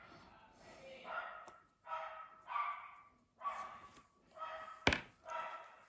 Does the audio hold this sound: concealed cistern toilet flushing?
no